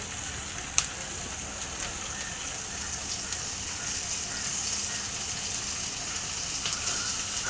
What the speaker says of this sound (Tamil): ஒரு ரெண்டு நிமிஷம் வெங்காயத்தை நல்லா வதக்கிடுங்க